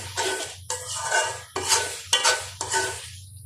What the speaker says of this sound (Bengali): মশলা কষিয়ে নিলাম